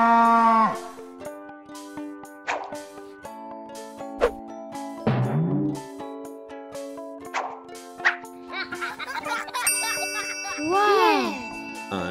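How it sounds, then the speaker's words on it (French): A cartoon cow moos over a bright children's music track with bell-like dings and chimes, the low lowing sounds rising out of the tune in a playful kids' learning song. "Une vache."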